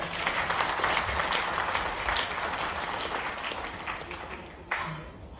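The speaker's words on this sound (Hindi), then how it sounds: "शुभ शुभ के लिए ताली बजा दें" An audience claps at a PM Mitra Park investors' meet in Delhi. The applause is dense and sustained and fills the room, then fades slightly toward the end.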